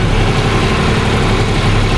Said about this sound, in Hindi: पहला बी में चल रहा अभी ये ट्रैक्टर